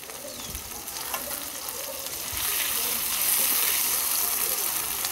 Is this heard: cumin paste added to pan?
yes